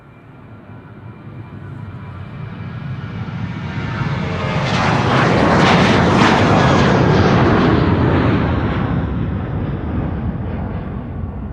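An Aer Lingus jet airliner at Amsterdam Schiphol Airport roars past, its engine noise building from a distant rumble to a loud, broad peak before slowly fading again.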